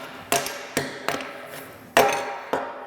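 Five sharp, loud knocks of metal striking a mold to free a freshly cast 3-pound lead hammer, spaced irregularly with short ringing decays, heard alone with no talk.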